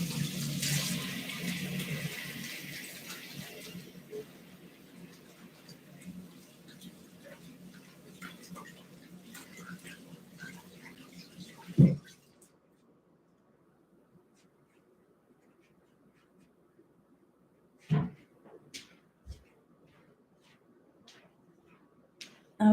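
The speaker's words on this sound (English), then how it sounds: "I'm just washing my hands." Tap water runs steadily while hands are washed at a sink, a close, broad rush that stops partway, followed by quiet with a few knocks and clicks.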